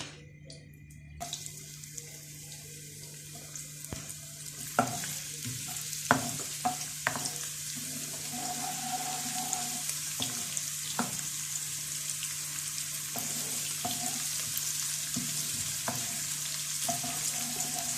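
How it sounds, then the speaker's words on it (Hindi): Onions frying in two tablespoons of oil for Singaporean rice, a soft continuous sizzle with occasional clinks and stirring knocks, fairly quiet and steady throughout. "अब हमने इसमें 2 टेबल स्पून ऑयल डाल दिया और अब हम इसमें डालेंगे अपने अनियंस।"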